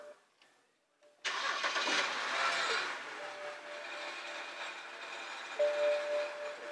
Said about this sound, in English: The exhaust is rattling.